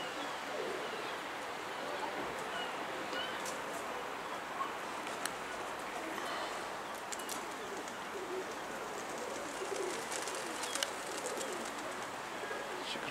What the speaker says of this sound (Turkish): Kuşlar ürktü bir şeyden.